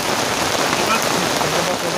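Rainy-season rain near a hidden waterfall at Malingping, a steady hiss of drops on surfaces, close and fairly loud, continuous without a break.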